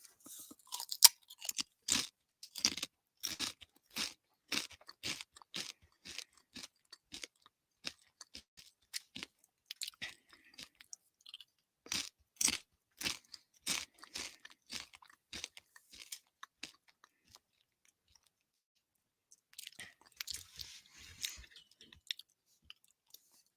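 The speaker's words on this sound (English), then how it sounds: "I'm just gonna wait and have a couple of Doritos." Doritos chips being eaten up close, with a quick steady run of sharp crunchy bites and chewing, a brief pause, then a few more crunches at the end.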